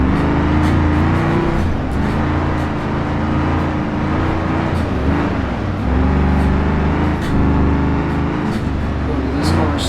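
A modified dirt car in the BeamNG.drive video game revs hard and continuously, a loud, rough engine drone rising and dipping through the RPMs, with someone talking over it.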